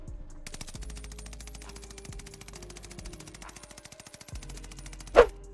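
Automaton assault rifle in Call of Duty Warzone Pacific on Caldera firing in a sustained rapid automatic burst for several seconds, steady and close, ending with a louder sharp report.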